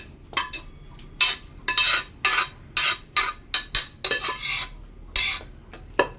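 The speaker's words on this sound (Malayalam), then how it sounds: "കഴുകി വൃത്തിയാക്കിയ ചിക്കൻ ഞാൻ ഇതിലോട്ട് ഇടുന്നുണ്ട്." Washed chicken pieces going into a cooking pot for a simple stew, heard as a run of clattering scrapes and stirring knocks of metal against the pot, close and bursty, with no talking.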